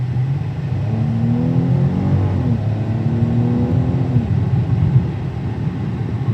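A modded 2016 Dodge Charger SXT accelerates from inside the cabin, its engine note rising steadily through a gear change, then climbing again over a constant road rumble.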